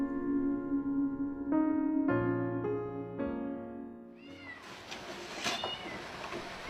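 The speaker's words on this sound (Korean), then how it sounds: "고양이 울음소리가 정적을 깨는 새벽." A cat meows at dawn in a quiet setting, several drawn-out, tonal cries in sequence, fairly close, followed by a burst of brighter, noisier yowling toward the end.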